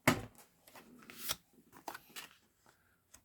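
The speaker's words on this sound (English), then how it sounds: "I am simply going to bring that in with guillotine and cut it nice and" A paper guillotine slices through card stock up close, with a sharp swish of the blade among faint handling clicks and rustles, alone and quiet.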